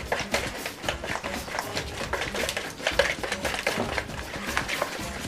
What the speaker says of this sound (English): We're going to be whisking this cornbread for about a good minute until it gets nice and thick and well stirred